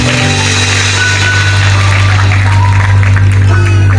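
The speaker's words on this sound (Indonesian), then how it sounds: "Berikan tepuk tangan yang meriah." A congregation at an Indonesian revival church service claps loudly and continuously while a sustained droning instrumental tone holds underneath the crowd's applause throughout.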